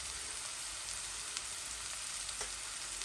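Onions frying slowly in hot oil with turmeric and chili added, a steady, quiet, close sizzle with crackling and no talking.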